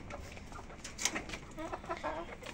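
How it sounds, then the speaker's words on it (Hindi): Chickens in a home backyard pen, a mix of local and other breeds, give short close clucks and squawks in uneven bursts with no talking. "ये मुर्गी हैं।"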